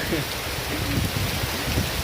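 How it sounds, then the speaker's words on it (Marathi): Heavy rain begins falling outdoors in misty hill country, a dense continuous close hiss of rain without a break. "आता पण ना जोरदार पाऊस पडायला सुरुवात झाली आहे"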